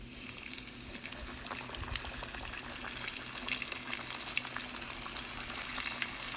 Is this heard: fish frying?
yes